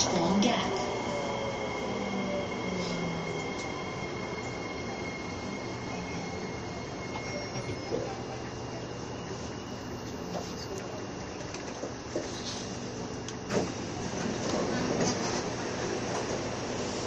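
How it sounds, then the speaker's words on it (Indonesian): Singapore MRT subway train running, with a steady rumble, metallic wheel squeal and occasional clanks throughout, carriage ambience and faint murmur of passengers in the background. "Ini dia suaranya MRT."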